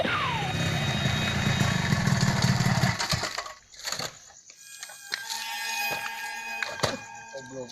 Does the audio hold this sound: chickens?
no